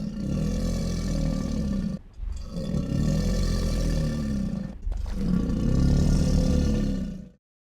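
A deep, rumbling alligator bellow in three long, loud bursts separated by short pauses, heard alone and close.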